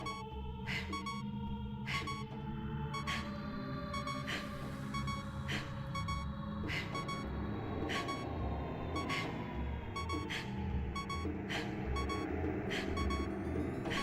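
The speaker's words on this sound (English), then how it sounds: "I can't like pause it just to stop the beeping" Repeated electronic beeping from Ocarina of Time on the Nintendo 64 in the Shadow Temple room before the boss, a steady rhythmic alarm pulsing about once per second over a low game hum.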